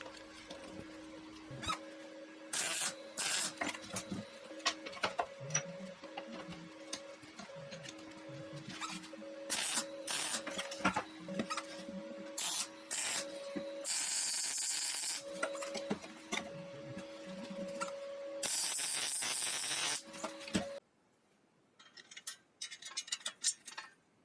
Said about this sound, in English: Over at the 3D printing farm we have a little jig and some pulley parts coming up.